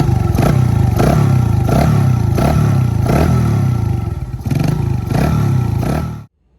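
A 1983 Honda ATC70 with a custom titanium exhaust and quiet insert runs close by with a steady, moderate engine note, pulsing in regular surges about every second before abruptly cutting off.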